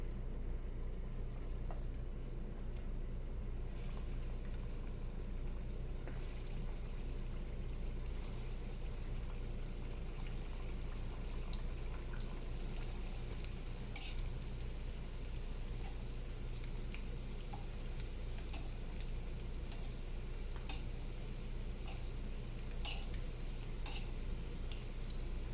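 Vegetable chops fry in hot oil on a stove, giving a steady, continuous sizzle and bubbling with scattered crackles and pops, close and moderately loud, with no talking.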